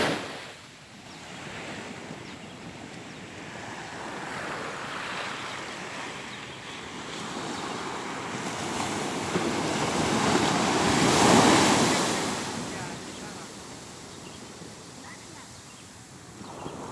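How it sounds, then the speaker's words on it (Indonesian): Surf rolls onto Binasi Beach in Sorkam as a steady broadband wash, swelling to a louder breaking wave near the middle, with wind buffeting the microphone throughout. "inilah keindahan daripada Pantai Binasi"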